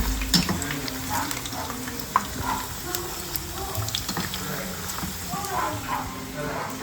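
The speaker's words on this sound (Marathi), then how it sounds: "आता मी गोल्डन ब्राऊन कलर करून घेणार फ्राय करून घेणार" Steamed colocasia leaf rolls (alu vadi) fry in hot oil toward golden brown, with a continuous bubbling sizzle and occasional clinks of stirring.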